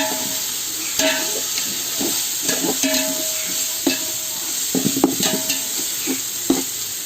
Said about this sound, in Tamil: எவ்வளோக்கு எவ்வளோ கிண்ட முடியுமோ கிண்டி விட்டுட்டே இருங்க